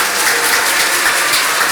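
A congregation claps steadily for a children's choir at an Easter service in a church, a short dense burst of applause heard close and continuous.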